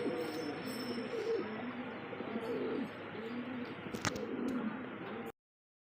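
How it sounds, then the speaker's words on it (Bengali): A pair of silver Lahori pigeons cooing close by, repeated low rolling coos over a light background, with a sharp knock near the end before the sound cuts off. "এত সুন্দর এক জোড়া সিলভার লাহরি কবুতর"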